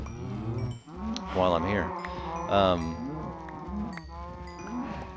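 Several cows low repeatedly in a Minecraft-style survival game pen full of bred cattle, the moos loud and close, overlapping each other, while someone talks briefly over them.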